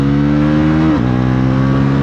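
A high-revving motorcycle fitted with a quick shifter and slipper clutch accelerates hard, its loud steady engine drone dropping sharply in pitch at a single clean upshift, then pulling on alone.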